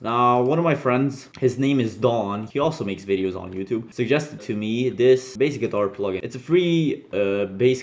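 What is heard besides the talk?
No everyday noise stands out behind the speech.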